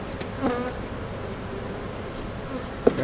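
Steady low buzzing from a few honeybees near a hive, with faint rustling and a brief sharp knock near the end.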